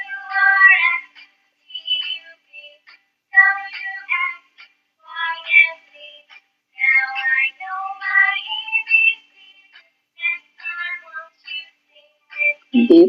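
A cat meows repeatedly in a series of clear, fairly loud calls with short pauses between them, standing alone without talk for most of the stretch.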